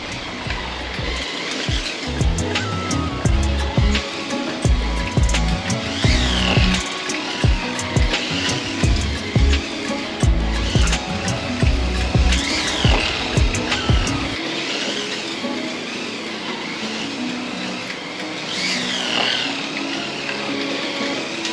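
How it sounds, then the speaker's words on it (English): A DeLeon Can Am slot car circling a track with its underside scraping, a close, repetitive whirring and rattling scrape that pulses with each pass, then shifts to a lighter, smoother hum in the last stretch. "the bottom of the car does scrape on the track, as you might hear it going around the track"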